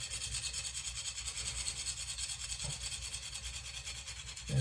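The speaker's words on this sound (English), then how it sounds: "It's meant to be sharpened like this." A Benchmade Steep Country knife is drawn against a stone in a KME sharpener, giving a steady rhythmic rasping of repeated strokes, close and fairly loud with no talk.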